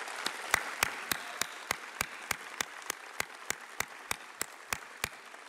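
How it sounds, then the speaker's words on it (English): Evenly paced clapping at a university lecture award presentation, about twenty crisp claps in a steady rhythm over several seconds, fairly faint against a quiet room. "And we invite your applause."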